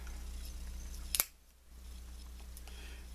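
A single sharp metallic click as the scissors open on a Victorinox Climber pocket knife, close and brief, against a steady low hum, followed by a moment of near silence.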